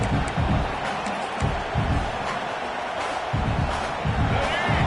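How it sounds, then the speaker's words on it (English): Stadium crowd roaring and cheering at a Texas A&M college football game, a sustained loud wash of voices with surging bursts throughout. "This crowd knows when to bring it."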